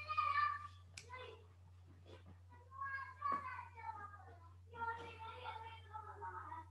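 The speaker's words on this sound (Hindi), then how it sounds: "बच्चों का शोर आ रहा है।" Children chatter and call out in overlapping voices just outside a classroom, a muffled, mid-distance babble with occasional sharper cries, heard over a steady low electrical hum.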